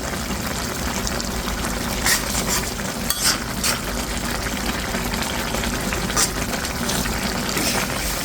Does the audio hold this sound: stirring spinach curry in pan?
yes